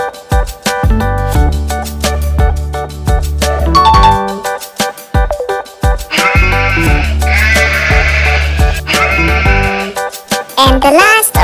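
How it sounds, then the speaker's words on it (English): A sheep bleats in a children's farm-animal guessing game, the cry set against a loud, rhythmic backing tune that continues throughout. "Sheep."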